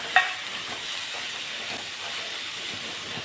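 Flat bean pods being sautéed with crushed peanuts in a pan, giving a steady, moderately loud hiss with a brief stir-like knock at the start and no talking.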